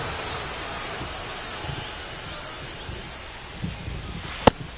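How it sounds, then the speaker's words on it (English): Heavy rain pours steadily over an outdoor baseball game, a dense even hiss with one sharp crack near the end, no voices. "It feels like we might be headed towards a rain delay if the weather doesn't ease up, Chris."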